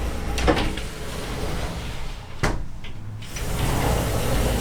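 Glass cupboard doors inside a Grand Design Solitude 373FB RV are opened and shut, giving two distinct knocking clicks about two seconds apart over a faint room hiss.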